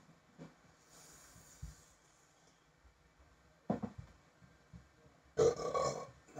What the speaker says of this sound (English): No, it's a spicy burp.